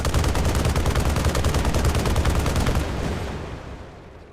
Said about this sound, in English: We have a automatic explosive projectile weapon.